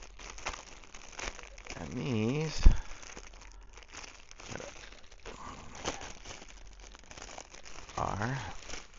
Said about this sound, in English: So let's open up this bag.